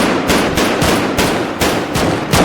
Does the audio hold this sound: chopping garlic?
no